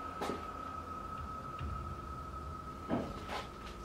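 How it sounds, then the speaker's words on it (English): Sharp knocks attributed to a poltergeist, two distinct raps about three seconds apart over a steady background hum in a quiet room, with no talking. "It begins subtly with some knocking."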